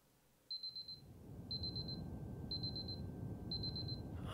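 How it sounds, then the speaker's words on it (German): Alarm clock ringing in the video game Superliminal: four evenly spaced bursts of rapid high beeps, each about half a second long, repeating once per second over a low rumbling background with no talk. "der Wecker schellt"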